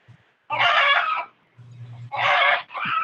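A chicken clucks and squawks in loud repeated bursts, close by, with low rumbling noise between calls and no talk.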